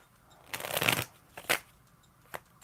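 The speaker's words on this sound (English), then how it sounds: "Oh, I was done shuffling." Playing cards are shuffled up close in three quick papery bursts: a longer riffle, then a shorter one, then a brief final flutter, with no talking.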